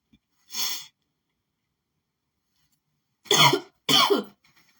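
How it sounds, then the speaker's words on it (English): A single short cough, then a pause and two more quick coughs close to the microphone, with silence around them. "I had to cough"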